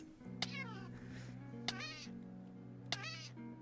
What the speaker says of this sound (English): Sorry for the constant meowing.